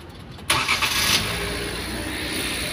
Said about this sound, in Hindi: क्लच से गाड़ी स्टार्ट होती है